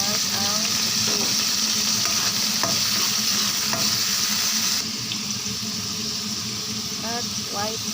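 Squid sizzles loudly in a frying pan with garlic and onion for seafood pancit, a dense, steady hiss with occasional stirring clinks that eases slightly partway through.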